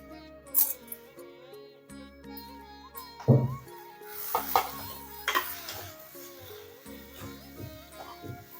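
Poppy seeds and chickpeas fry in a pan for a village-style country chicken sambar, with repeated stirring scrapes and metal clinks against the pan over a soft frying sizzle, close and moderately loud.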